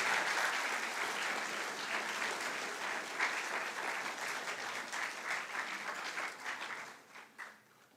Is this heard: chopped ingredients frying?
no